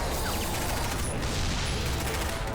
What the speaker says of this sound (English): we're going for the old school approach with gunfire